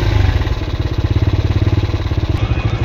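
A motorcycle idles at a Kolkata railway level crossing in the rain, its engine putting out a steady, close, even low throb throughout with no voices.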